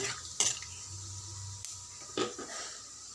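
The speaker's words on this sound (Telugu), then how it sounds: "మసాలాలన్నీ మంచిగా ఫ్రై అయ్యే వరకు కలుపుకోవాలి" Whole spices, cardamom pods, cinnamon stick and bay leaf, stirred in hot oil in a pan for chicken curry, a soft steady sizzle broken by a few sharp scraping clinks of a spoon against the metal, close by with no talking.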